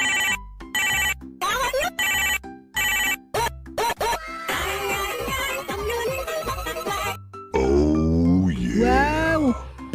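A cartoon cellphone ringtone plays in bursts of bright electronic bell-like tones, followed by animated character voices chattering and exclaiming over the music.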